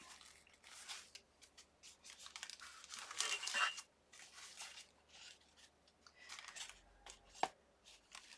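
A paper napkin being cut with scissors and torn by hand, with quiet close snips, crinkles and longer ripping bursts in an otherwise hushed room.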